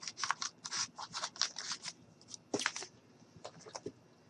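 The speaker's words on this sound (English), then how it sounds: "Just cut a little strip out." Scissors cutting a little strip of plastic, heard as a close, quiet series of quick crisp snips in an irregular rhythm, with no talking.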